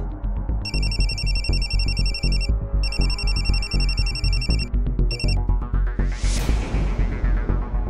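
A mobile phone ringtone plays loudly and repeatedly in bursts of a bright electronic melody, over background music with steady beats.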